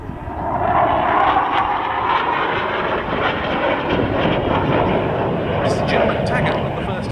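A Hawker Hunter jet with a Rolls-Royce Avon engine roars steadily overhead at an airshow, a broad rushing engine noise that holds throughout, with a crowd murmuring faintly underneath.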